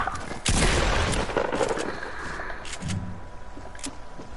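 Rapid gunfire in a first-person shooter video game, loud and sharp at first, then continuing as sporadic shots and game effects under a busy mix.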